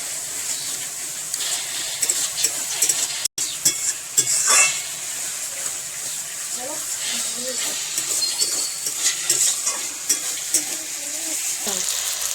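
Garlic and ginger paste frying in a pan at an outdoor village picnic cook-up, with a steady loud sizzle and occasional scraping stirs of a utensil against the pot, and people talking in the background.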